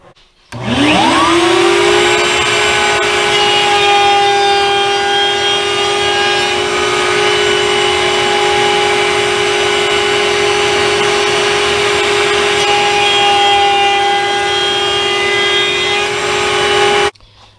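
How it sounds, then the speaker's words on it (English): A router fitted with a small round-over bit spins up and cuts the edge of a wooden ulu cutting board: a loud, sustained high-pitched whine rising at startup, holding steady, then cutting off at the end, with no talk. "I'll do that with a small round over bit right here. I'll just run my piece through just like that."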